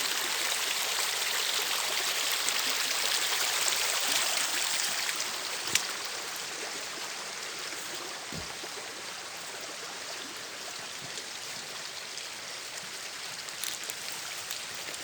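Steady rushing of a small creek flowing through a village, a constant broadband water noise with a few faint knocks, no voices present.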